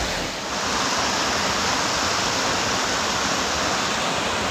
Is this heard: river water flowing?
yes